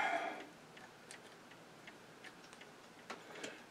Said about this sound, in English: I'm actually going to take the whole set screw out.